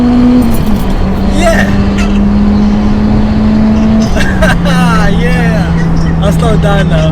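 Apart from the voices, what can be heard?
Honda Civic Type R accelerating hard toward the motorway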